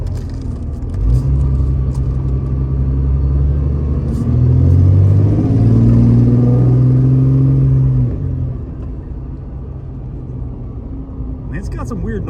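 An old Jeep XJ with no power steering rumbles as it drives and turns, its engine note rising and falling with uneven droning tones, loud and close before fading off.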